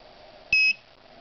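A Garrett Pro-Pointer metal detector pinpointer gives a single short, high electronic beep, clear and close, lasting about a quarter second against a quiet background hum.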